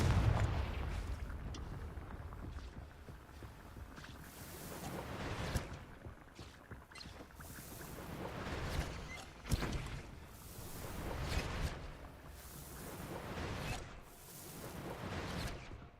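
Bombarda and Confringo spell blasts in the game Hogwarts Legacy: a series of booming, whooshing explosions every second or two over a continuous rumbling backdrop, no talk.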